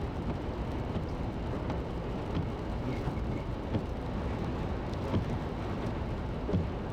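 Wind-blown rain strikes a car windshield in a steady, dense patter with a low rumbling drive noise underneath, continuous and fairly close, with no talking.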